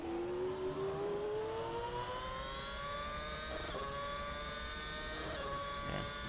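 Classic race cars in Assetto Corsa roar at full throttle around the Las Vegas F1 circuit, their loud engine notes climbing steadily in pitch through a sustained pull, with other cars passing faintly in the mix.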